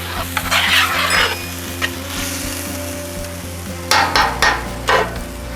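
Vegetables and onion being stirred in a kazan, with steady frying sizzle under repeated scraping and clattering strokes of a utensil against the pot, close and fairly loud.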